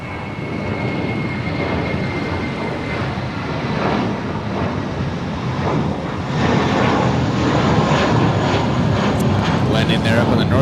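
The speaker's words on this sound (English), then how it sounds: "Landing there up on the north side, Delta 446, and from Boston is Boeing 757-200" A Delta Boeing 757-200 airliner from Boston lands on the north side at Los Angeles International Airport, its engine roar a steady broad rumble that swells louder toward the end, with radio voices faintly underneath.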